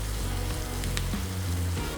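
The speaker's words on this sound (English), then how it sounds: "Sweat the onion and sweat the carrot. A generous amount of salt. Some pepper. Stir fry it." Onion and carrot stir frying with salt and pepper in a hot pan, giving a steady close sizzle with faint crackles and no talking.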